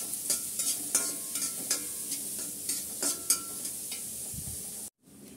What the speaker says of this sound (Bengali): পেঁয়াজটা আমি একটু বেরেস্তা করে নেব।